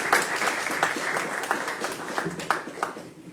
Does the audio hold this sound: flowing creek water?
no